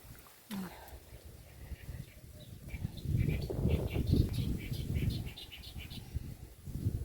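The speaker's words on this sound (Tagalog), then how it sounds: "Daming ibon dito." Several small birds chirp outdoors near a banana harvest on a hot day, bright twittering calls scattered through the clip over steady background noise, with a brief thump near the start.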